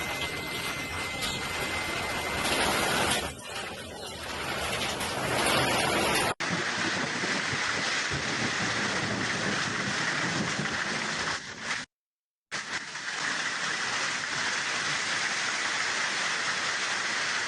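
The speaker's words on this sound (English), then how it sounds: "All of this was accompanied by strong squally winds and a fierce thunderstorm." Fierce hailstorm in Omsk, Russia, with strong squally winds and thunder: a loud, steady roar of wind and pounding hail, broadband and unbroken, with a harsher gusty burst at the start and a brief dropout near the end.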